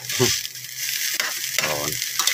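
Garlic fried rice with siomai sizzling and being stirred in a hot pan, a bright continuous crackle broken by a few scraping spatula strokes, close and loud.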